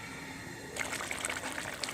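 Water draining from soaked rice, a sudden trickling splash starting partway through and continuing steadily, close and fairly loud after a quiet start.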